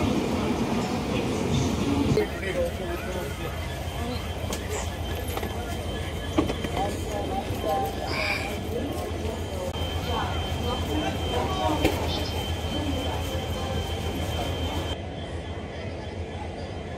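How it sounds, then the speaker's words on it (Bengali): The 12343 Darjeeling Mail passenger train runs along the rails between Sealdah and New Jalpaiguri, a steady rumbling roar with rhythmic wheel clatter and occasional knocks, heard from on board throughout. "চলো যেতে যেতে ট্রেনের কিছু ভিউ দেখা যাক"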